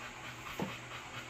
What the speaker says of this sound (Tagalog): Hinihingal pa rin siya.